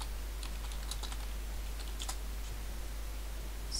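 Quiet, irregular clicks of fingers typing on a computer keyboard, soft and close, with a steady low hum beneath and no talking.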